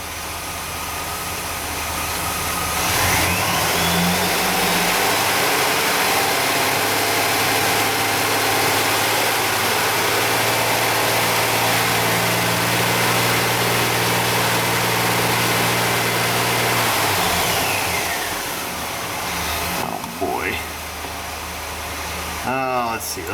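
A car engine idles steadily at close range while its catalytic converter warms up, a constant low hum with brief mechanical clicks near the end.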